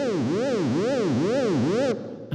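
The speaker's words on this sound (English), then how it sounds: "By taking out the low and high end, I can allow this middle hum to sit in the mix right." Synthesized middle-range hum for a Dragon Ball Super Saiyan sound effect, a distorted buzzing tone sweeping up and down in four regular waves before cutting off abruptly.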